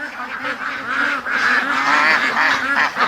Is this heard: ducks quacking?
yes